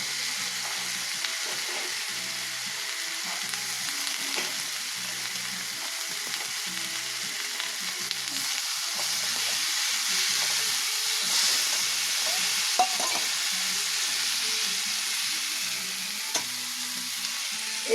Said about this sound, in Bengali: এবার দিয়ে দিচ্ছি কড়াইশুঁটি